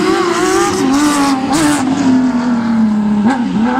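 A Porsche rally car at full throttle on a Rally de Wallonie special stage, its engine note loud and close, rising and falling through gear changes with brief revving surges and no voices.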